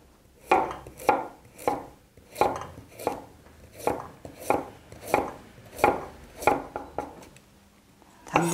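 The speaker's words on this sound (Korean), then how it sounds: "먼저 주어진 채소를 채를 썰어 보도록 하겠습니다" A knife julienning carrots on a cutting board makes about a dozen crisp, evenly spaced chopping thuds close by, with quiet pauses between strokes.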